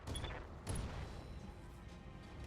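Mech weapons firing in the RogueTech battle game, heard as two faint, distant bursts of rattling fire close together, followed by a low rumbling tail.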